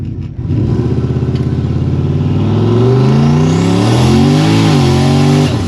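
A 600-horsepower turbocharged Lincoln running nitrous accelerates hard from a standstill, its loud, close engine note climbing steadily through the gears with a brief dip and rise, the roar continuous and dominating.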